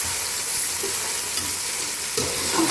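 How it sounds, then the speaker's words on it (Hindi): Chicken browning in a pan with onion, garlic and ginger for a pulao, a loud continuous sizzle with soft scraping as it is stirred, close and steady throughout. "चिकन को लहसुन प्याज अदरक के साथ ही ब्राउन करना है।"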